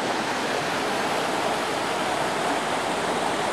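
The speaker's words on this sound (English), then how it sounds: "Stream's very calm right now." A calm mountain stream flowing beside a trail bridge on a hike up Big Slide via Yard Mountain: an even, unbroken rush of water, close and fairly loud, with no talk.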